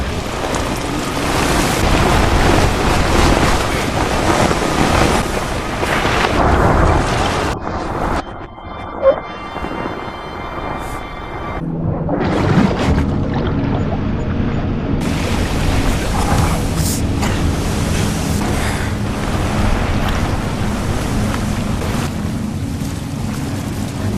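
Rough storm sea noise on the Indian Ocean with crashing waves and heavy wind gusts roars loudly, briefly dropping to near quiet in the middle before the surge returns.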